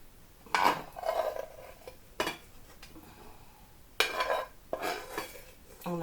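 Fusion tteokbokki scooped out of a pan with a utensil, several scraping clinks of metal against the pan in irregular bursts, close and moderately loud.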